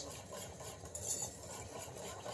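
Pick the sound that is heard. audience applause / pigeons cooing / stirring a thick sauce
stirring a thick sauce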